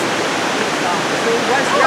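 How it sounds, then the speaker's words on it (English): A waterfall in Umpqua National Forest, heard from close enough to feel its mist, gives a loud, steady rushing roar of falling water that fills the whole moment without a break. "we're close enough now that we're actually getting mist from the waterfall"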